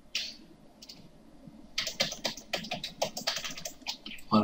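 Computer keyboard keys being typed in a quiet room, a brief early burst of taps followed by a faster run of close, crisp clicks.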